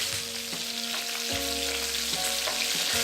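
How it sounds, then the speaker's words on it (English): Green chillies fry in hot oil among popped seeds, giving a steady, close sizzle that stays loud throughout, with a few soft stirring knocks and a low hum beneath. "Once they are popped up nicely, now add the green chilli. Try to mix it properly"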